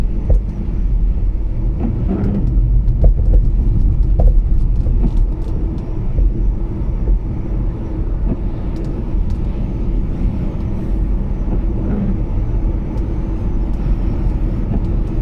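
Wind buffets a car, a low steady rumble with gusty swells and faint whistling around the door seals, heard from inside, no voices.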